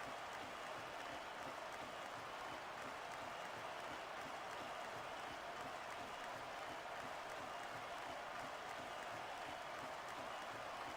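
A video game wrestling arena crowd from WWE SmackDown vs Raw 2006 roars in a steady, dense wash of cheering and applause, loud and continuous throughout, with no distinct voices rising above it.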